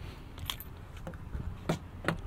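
The key and fob of a 2000 Toyota Tundra SR5 jingle faintly in a few short metallic clinks, close by, in a quiet cab.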